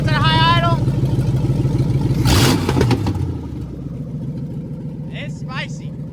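A Ford LTD's 460 big-block V8 runs at a high idle, a loud steady low engine drone that drops slightly in level partway through, with brief speech-like bursts over it.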